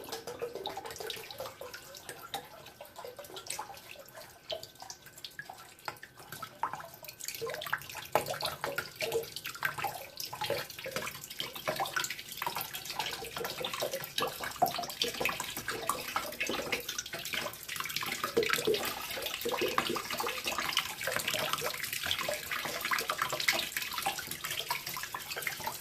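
Two liters of water poured into a small indoor aquaponics tank built from half of a 55-gallon drum, a steady, continuous, close gushing and trickling that runs for about twenty-five seconds without talk.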